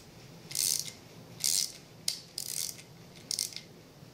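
A part on an Autococker paintball marker is being tightened down on slightly clogged threads, giving five short bursts of faint, close ratcheting clicks separated by brief pauses.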